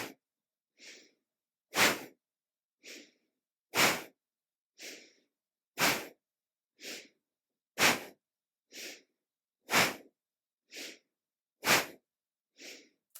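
Rapid deep breathing during a yoga practice, with forceful nasal exhales alternating with softer inhales in a steady rhythm, about fourteen breaths, close and alone in a quiet room.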